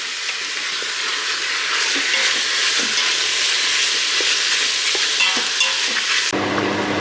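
A curry with peppers and tomatoes sautés in a pan with a loud, continuous close sizzle and occasional stirring scrapes, which cuts off abruptly near the end as a different background takes over, no speech.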